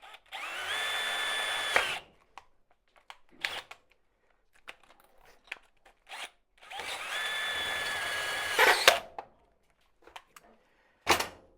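A power drill bores out a tapped thread hole during boat preparation work, two sustained whining bursts of about two seconds each with short clunks and handling noises between them, close and loud.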